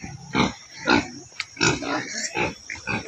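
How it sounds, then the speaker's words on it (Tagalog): Two pigs grunting and snorting up close, a series of loud, rough bursts repeating irregularly roughly every half second with short pauses between, no talk. "Duha ni kabukang baboy ni Mother Dani."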